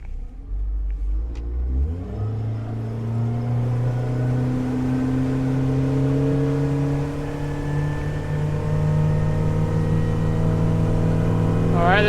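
A 2021 Starcraft Starweld 17 Flex aluminum boat with a Honda 90HP outboard accelerates from a low idle into a loud, rising engine drone that climbs steadily in pitch and holds strong, with rushing water and wind underneath.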